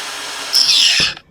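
A DongCheng DCSM04 cordless 5-inch angle grinder runs briefly, a close loud high whir that surges in pitch and then spins down quickly.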